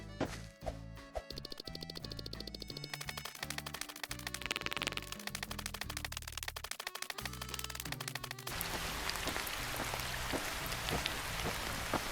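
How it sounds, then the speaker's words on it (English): Steady rain falls in a driving video game, a dense hiss taking over in the latter part after a stretch of rapid clattering game sounds, close and continuous with no speech. "it suddenly started to rain and we can't see much."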